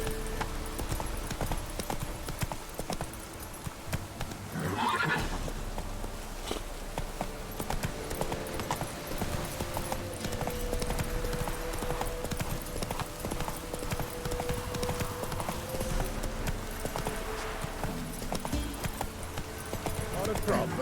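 Roach, Geralt's horse in The Witcher 3 video game, drums out a steady run of hoofbeats through the whole stretch, with a game soundtrack and spoken lines layered over the clatter.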